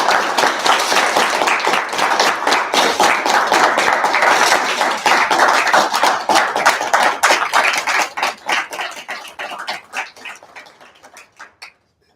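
Meeting audience in a student government session applauding with dense, steady clapping that thins out and tapers to scattered last claps near the end.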